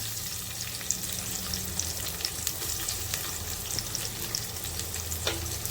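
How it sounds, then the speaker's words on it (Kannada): Onions fry in hot oil with a constant, even sizzle and scattered small pops, steady throughout with no voices. "ನೋಡಿ, ಆಯಿಲ್ ಬಿಸಿಯಾಗಿದೆ. ಮೊದಲಿಗೆ ನಾವು ಈರುಳ್ಳಿ ಹಾಕ್ಕೊಳ್ಳೋಣ."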